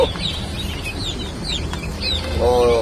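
Soft clucking from a few young chickens close by, scattered chirps over a steady background, with a brief spoken exclamation at the start.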